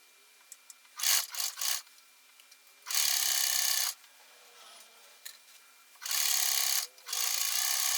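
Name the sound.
sewing machine stitching skirt seams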